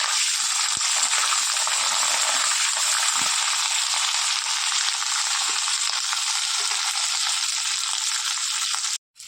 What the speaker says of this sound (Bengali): ফুলকপিটি এবার লাল লাল করে আমি ভেজে নেব।